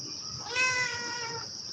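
An attention-seeking cat lets out one clear, drawn-out meow lasting about a second, close and moderately loud against a quiet indoor background.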